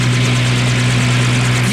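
A helicopter's engine and rotors give a loud, steady droning hum with strong low tones, unbroken throughout and close by.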